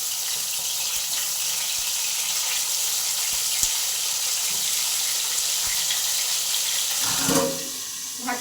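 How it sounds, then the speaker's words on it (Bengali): Eggplant slices dusted with turmeric sizzle steadily in hot oil, a continuous close frying hiss with a few small pops and a stirring clatter near the end. "একটা একটা করে আমি দিয়ে দিচ্ছি বেগুন ভাজার জন্য"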